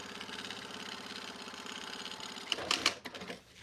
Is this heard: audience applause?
no